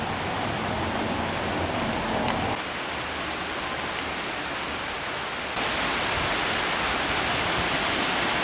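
Steady heavy rain falls continuously outdoors in Eisenach, a dense, even hiss with no pauses, fairly close and loud, with no talking.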